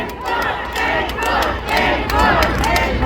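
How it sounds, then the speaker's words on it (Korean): A crowd at an outdoor tomato festival stage show roars and cheers in surging waves, loud and close, with scattered claps and shouts swelling and dipping over a few seconds. "박수 함성."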